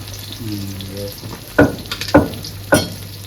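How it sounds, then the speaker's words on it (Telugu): Tomato and tamarind fry in a pan for a roti pachadi, a close sizzle broken by three sharp scraping stirs of a spatula, with a brief tonal hum early on. "టమాటాతో చింతోసు కూడా అవి కూడా ఫ్రై అవుతుంది"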